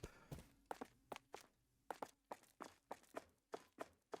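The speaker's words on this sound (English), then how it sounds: "hear our footsteps 2 times now" Footsteps from a character walking in an Adventure Creator game, an even run of about a dozen close, crisp steps with each footfall sounding doubled, heard alone without talk.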